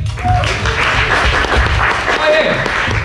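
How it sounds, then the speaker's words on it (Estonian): A group's dense applause breaks out during a team coding competition as one team solves its first task, a continuous wash of clapping mixed with chatter and voices throughout. "Teeme aplausi!"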